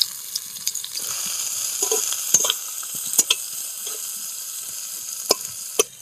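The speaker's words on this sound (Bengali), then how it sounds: "পেঁয়াজ রসুন কাঁচা লঙ্কা আমি হালকা লাল লাল করে ভেজে নিচ্ছি" Onion, garlic and chopped green chilli frying in hot mustard oil, a steady close hiss of sizzling oil with repeated sharp clinks and scrapes of a spatula stirring the pan.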